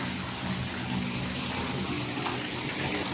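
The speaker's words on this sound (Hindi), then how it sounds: "देखिए कितना पानी आ रहा है" Water gushes steadily from a tap, a continuous broadband rush with no pauses, loud and close throughout.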